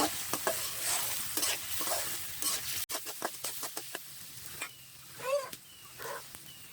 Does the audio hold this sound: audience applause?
no